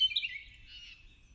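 Birds chirping and singing outdoors in woodland, a faint high twittering call near the start and a softer trill later, over low rumbling background noise.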